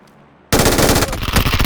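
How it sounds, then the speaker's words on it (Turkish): Rapid automatic gunfire erupts suddenly and loudly from near silence in the battle royale video game PUBG, a dense close burst lasting over a second. "Adam sisin içinden direkt bana ateş etti ya"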